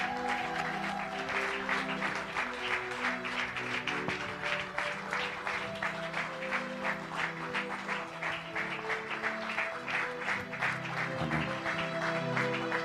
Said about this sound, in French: Est-ce qu'on peut bien l'acclamer?